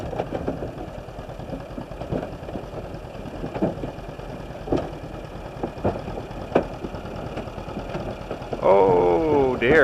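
A small two-cylinder John Deere bucket loader tractor engine chugs steadily at close range with rhythmic knocking pulses, rising to a louder, strained rev at the end.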